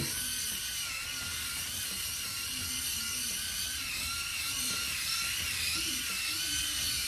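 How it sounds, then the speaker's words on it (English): An electric head shaver buzzes steadily and loudly without pause while shaving a bald head, a dense high whine with a faint shifting lower hum. "this has got to be the best head shaver I've ever owned and tried"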